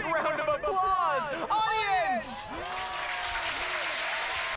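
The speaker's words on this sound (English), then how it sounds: "show him our support with a big round of applause, audience." Anime audience applause in a Dragon Ball tournament scene, a crowd clapping beneath an excited announcer's voice, with the clapping continuing more evenly after he stops.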